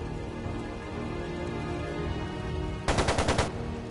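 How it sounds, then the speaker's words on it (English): Rapid machine gun burst in Trails of Cold Steel 2, about half a second of sharp rattling shots cutting through a steady rain-like background hiss late in the clip. "It sounded like a machine gun."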